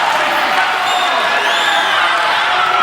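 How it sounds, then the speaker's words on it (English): Crowd at a live TMDK professional wrestling event cheering and roaring loudly and steadily, with whoops rising above a dense wall of noise after a wrestler lands on top of an opponent. "Slex landing on top and the crowd goes crazy"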